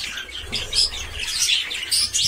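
Several young birds chirp and cheep continuously in high, overlapping bursts, with occasional soft wing flutters nearby; the chicks are fed a salad and are being hand-tamed.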